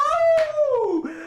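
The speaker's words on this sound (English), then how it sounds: "A doggy! A dog!" A dog howls in a long, sliding wail that drops in pitch toward the end, close and fairly loud, with a brief higher yip partway through and no talk over it.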